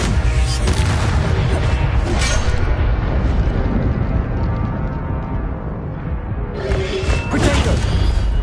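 The Incendio fire spell in Hogwarts Legacy erupts with loud, booming bursts of flame, a crackling roar that swells, dips briefly mid-way, then flares again with sharp whooshing impacts in a busy combat scene.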